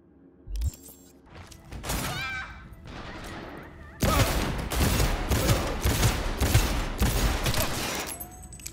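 Close, loud gunfire in Cyberpunk 2077. After quieter clatter and a few scattered bursts, rapid shots hammer in a dense rhythmic string for several seconds.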